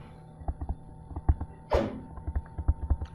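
A single sudden sneeze bursts out partway through a lecture, loud and brief, amid soft thumps and footsteps in the room.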